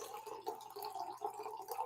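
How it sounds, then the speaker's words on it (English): Water pours into a small terracotta pot, a gentle, steady trickle with bubbling, rising gurgles that continues without a break. "And you want to fill her up with water."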